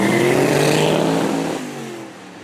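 A Noble M600 Track Sport one-off supercar with a 4.4 litre V8 at a supercar weekend, a loud, close engine note easing off and fading on the overrun, alone without talk.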